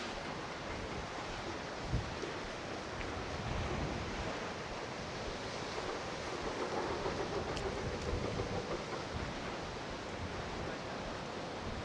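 Strong gusting wind buffets the microphone on a seaside walk past a car park, a steady broadband roar that swells in places with surf-like rushing, loud and continuous with no voices.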